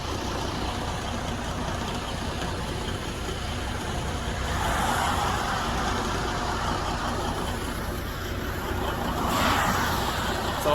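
Steady low drone of a semi truck engine running while driving on icy roads, continuous and fairly loud with gentle swells in level, no talk.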